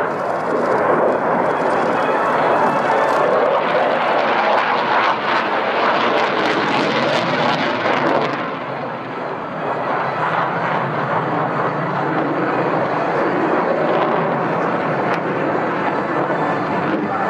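Mirage 2000D fighter jets of a French attack display roar past at the RIAT airshow, a loud, broad jet rumble swelling and fading over many seconds, dipping briefly before returning, with no talking.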